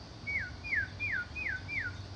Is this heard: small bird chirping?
yes